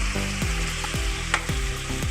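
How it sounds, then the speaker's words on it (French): Vegetables stir-fry in a pan for dinner, a utensil scraping through them in rhythmic strokes about every half second over a steady, close sizzle, with no talking. "je vais bien mélanger et laisser cuire"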